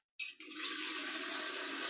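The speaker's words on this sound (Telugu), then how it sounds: "కొంచెం నీరు పడతాను" Water gushes from a household tap shared by the sink and washing machine, starting abruptly after a brief silence and then running steadily, close by and alone.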